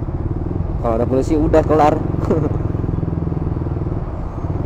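A motorcycle with a standard exhaust hums steadily at a low, even pitch while being ridden, the rider's voice briefly talking over the engine.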